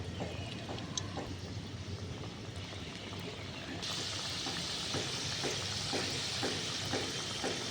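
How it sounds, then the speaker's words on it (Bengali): Kathi goja (murali) sweets fry in hot oil in a kadai, a dense, continuous close sizzle that grows louder partway through, with faint stirring taps. "বাকিগুলো ঠিক এইভাবেই ভেজে নেব"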